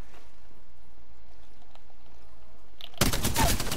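Automatic gunfire in the video game Apex Legends, a sudden loud rapid burst that breaks in after near-silent game ambience in the final second.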